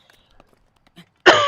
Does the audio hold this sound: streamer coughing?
yes